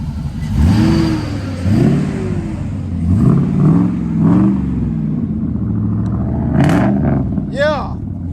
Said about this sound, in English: Go on, rev it up a little bit.